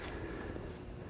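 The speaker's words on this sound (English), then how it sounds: "Let me turn on a little wind and show you how it works." Wind from a fan blows across a homemade whirligig with a propeller driving a little sawing figure, a steady broad whooshing rush that stays near and continuous throughout.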